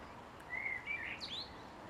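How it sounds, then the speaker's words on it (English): A blackbird sings a short, clear fluting phrase in the distance over quiet outdoor background. "There's a blackbird serenading us at the moment."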